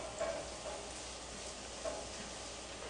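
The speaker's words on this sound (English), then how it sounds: "we're going to saute this just probably a minute longer" Mushrooms sautéing in a pan for a creamy mushroom pasta, a steady soft sizzle with faint stirring scrapes, close and fairly quiet, with no voices.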